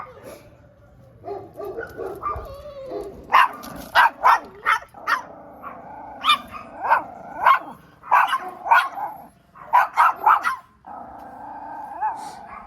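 Several chihuahuas on a beach walk barking and yipping at each other, sharp near barks in irregular bursts with brief growls between them.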